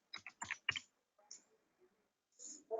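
Someone types on a computer keyboard in a clinical records setting: a quick burst of several crisp key clicks, then a few sparse, fainter taps and a final short cluster.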